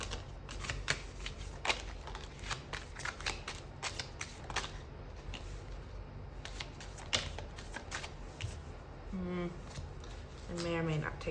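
Tarot cards being shuffled, heard as a long run of quick riffling flutters and soft slaps under a constant low background hum, with someone talking briefly near the end.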